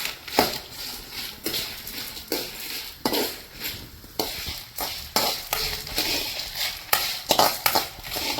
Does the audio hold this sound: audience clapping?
no